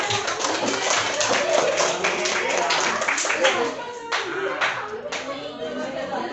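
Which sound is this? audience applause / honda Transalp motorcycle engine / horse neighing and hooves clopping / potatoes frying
audience applause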